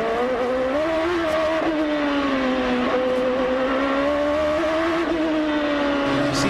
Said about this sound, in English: Hear that wheel spin when that turbo lights.